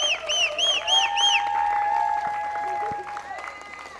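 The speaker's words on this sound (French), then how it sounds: "je vous invite à applaudir Emma et Geneviève" Studio audience applause during a French television programme after a heated debate, a fairly loud wash of clapping mixed with bright musical chimes and tones.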